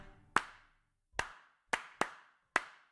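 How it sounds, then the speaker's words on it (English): Hands clap five separate times in an uneven rhythm, each clap sharp, close and clear with silence in between, keeping time to a children's action song. "clap your hands"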